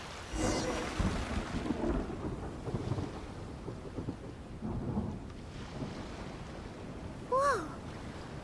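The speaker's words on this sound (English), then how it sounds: "Where'd the thunder come from?" Thunder rolls in a Genshin Impact thunderstorm, deep rumbling crashes over steady rain, with a sharp brighter crack near the end.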